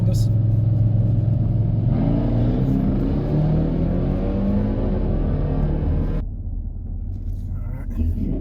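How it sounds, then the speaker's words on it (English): Two V8 muscle cars, a Chevrolet Camaro LT1 with a 10-speed and a Dodge Charger Scat Pack, race side by side, their loud engines droning and rising steadily close by before the roar eases toward the end. "Racing another Camaro LT1."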